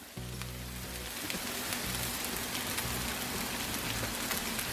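Jambalaya rice fries in oil on a Blackstone griddle, a dense, steady sizzle like hard rain that runs unbroken and close throughout.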